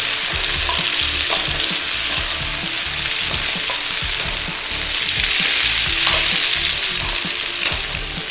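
Drumstick pieces frying hard in oil in a pan for sambar, a loud dense steady sizzle with occasional stirring scrapes, close up and without talk.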